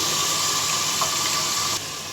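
Washed mung dal slips slowly into a pot of hot water, a soft, steady watery rush close by that drops quieter near the end.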